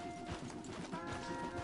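Horses clip-clopping along a path in the video game Red Dead Redemption 2, a steady run of close hoof falls with no talking.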